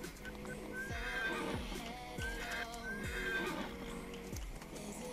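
A ridden horse in Farming Simulator 19 neighs repeatedly in a rhythmic series of whinnies, with steady clip-clop hoofbeats underneath, moderately quiet and recurring about once per second.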